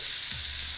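Food sizzles in a pan with a steady hiss, close by, and a brief clatter of stirring at the end.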